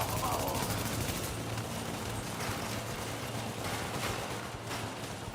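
Sustained gunfire in a video game shootout: dense, continuous rattling shots over a steady low drone, somewhat muffled, with voices mixed faintly in.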